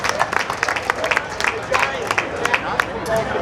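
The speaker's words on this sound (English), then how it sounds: "Let's give everybody a round of applause" An outdoor crowd at a Lions Club car show gives a lively round of applause, with dense, sharp claps and some chatter and voices mixed in.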